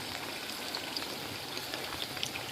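Steady rain during the rainy season in the Philippines, an even wash of falling water with scattered close drips and patters, moderately loud and continuous with no talking.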